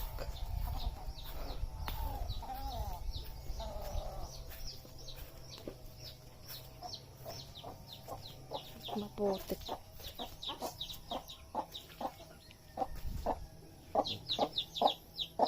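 Chickens cluck repeatedly nearby, with rhythmic clucking building toward the end, under a background hum and brief speech.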